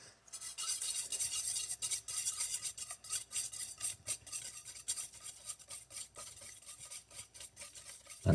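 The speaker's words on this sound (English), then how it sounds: "we're going to gradually mix in some sugar." Sugar being whisked into egg yolks in a bowl for creme brulee: a steady, close scraping and rasping of the whisk against the bowl, continuous and busy, with no talking.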